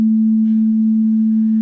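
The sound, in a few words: sine wave tone, Game Boy audio emulation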